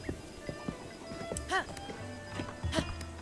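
A horse's hooves clip-clop in The Legend of Zelda: Breath of the Wild, with a steady beat of game hoof falls and ambient game sound running under a person talking.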